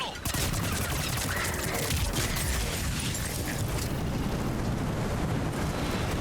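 Dense, continuous gunfire and rumbling explosions fill a battle in the video game Mass Effect 3, loud and unbroken throughout, with voices faintly mixed into the din.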